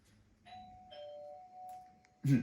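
A two-tone doorbell chime rings once, clear and fairly close, with a louder thump at the end over quiet room noise.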